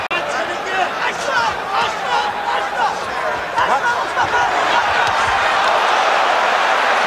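A boxing arena crowd roars after a knockdown in a bout between Hagler and Hamsho, a loud sustained din of voices and cheering that rises and swells throughout, with a sharp thump at the very start.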